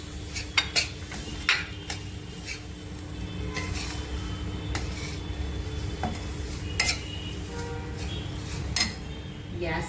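Grated fresh coconut is tipped into roasted rice in a pan on the stove and stirred, with repeated scraping clinks of a spoon against the pan over a faint sizzle.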